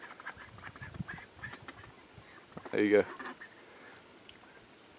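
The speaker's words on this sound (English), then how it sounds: "It's just really nice as well when we're working around and we have some ducks in the garden." Ducks kept in a garden give a short burst of quacking near the middle, close by, while a person speaks briefly over light rustling around them.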